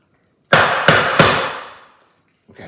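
A segmented treat is banged hard on a surface three times in quick succession, each loud, close knock ringing out and fading before a softer rustle of unwrapping.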